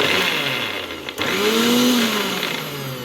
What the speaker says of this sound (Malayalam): അതെല്ലാം കൂടെ മിക്സിയിലടിച്ച് സെറ്റാക്കി എടുക്കുക